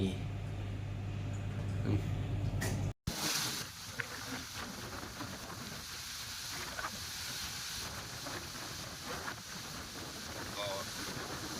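Strong wind rushes across the microphone at a beach, with the steady roar of waves beneath it, loud and constant throughout, and someone talking over it.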